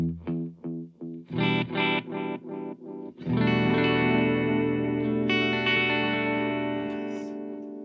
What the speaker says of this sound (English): So an Echoplex emulation.